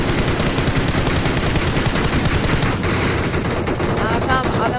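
Rapid automatic gunfire rattles continuously from a squad match in a shooter video game, loud and dense throughout, with excited teammates talking over the bursts.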